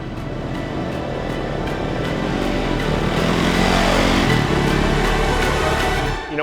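Off-road race motorcycle at the Baja 500 start, its engine roaring loudly as it pulls away and builds to a sustained high rev, with a crowd and ambient noise underneath.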